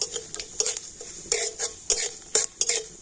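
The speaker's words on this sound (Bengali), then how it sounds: "তো শুকনো লঙ্কা আর 5 ফোড়নটা একটুখানি ভেজে নেব।" Dried red chillies and panch phoron frying in oil, with a quick run of spatula scrapes against the pan over a light sizzle, repeated in short irregular bursts.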